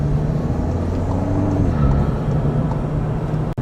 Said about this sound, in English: the car just moves. It goes through the gears